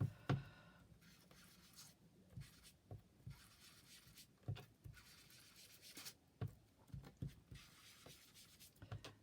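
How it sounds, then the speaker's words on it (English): Tea dye distress ink being applied to paper for a junk journal: soft repeated rubbing and dabbing strokes with scattered light taps, close and quiet, with no voices. "I'm just going to tone this white down with a bit of tea dye distress ink"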